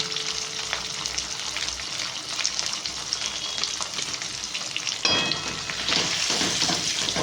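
A spiced potato curry with tomato, salt, chili and turmeric sizzles and is stirred steadily in a pan, a continuous close frying hiss with a brief scraping break midway.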